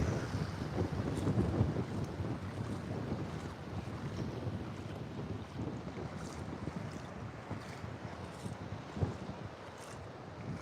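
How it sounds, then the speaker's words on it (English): Strong wind buffeting a camera microphone at Fingal Beach, a constant rough roar with gusty swells and blown spray chop, loud and close throughout with no talk. "the wind is actually blowing here, and it's blowing the wind chop up onto my camera"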